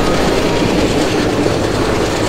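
An Indian Railways WDM2 diesel locomotive of the Katni shed hauling the Bhusaval–Katni passenger in the Open Rails simulator, its engine roaring steadily and loud, with continuous wheel clatter on the rails and no talk.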